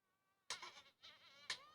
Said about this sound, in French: Oh oui, il y a une mouche.